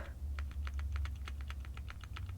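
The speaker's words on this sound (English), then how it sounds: "It's a little numpad. It's like a high-end numpad." Close, crisp keystrokes typed on a high-end wireless Zoom Pad numpad keyboard, an evenly paced run of about a dozen clicky taps over a low steady hum, with no voices.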